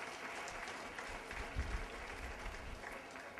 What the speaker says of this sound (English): Please applaud them with motivation.